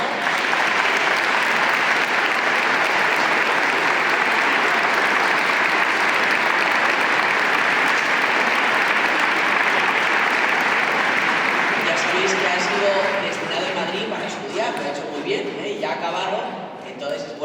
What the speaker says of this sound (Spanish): tenemos que dar un aplauso por todo el esfuerzo